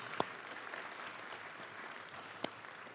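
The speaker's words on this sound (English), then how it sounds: "Let's all give them another round of applause." Audience applause during a high school Hall of Fame induction ceremony curtain call, a quiet, diffuse wash of clapping with two sharp nearby claps standing out, no talking over it.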